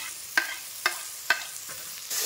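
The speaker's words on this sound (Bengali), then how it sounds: "টমেটোটা একটু ভেজে নেবো" Chopped tomato fries with onions in a pan, a soft continuous sizzle broken by three evenly spaced scraping stirs of a spoon, then a louder burst of sizzling at the end.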